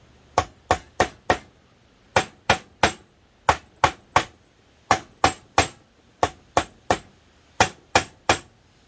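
Repeated sharp taps seating a bearing onto a KE102 engine part, struck in tight bursts of three to four hits with short pauses between groups, crisp and close with no talking.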